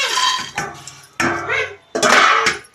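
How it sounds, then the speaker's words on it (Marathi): Spices, sesame seeds, coconut and peanuts being dry-roasted in a pan, heard as three loud bursts of rattling and scraping as the mix is stirred against the metal, close up with short pauses between. "तर हे सगळं आता मी भाजून घेणार आहे"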